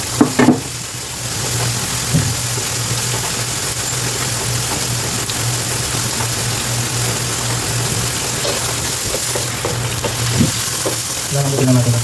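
Tomatoes fry in a pan with a steady, close sizzle, and occasional stirring clatters break through near the start and end.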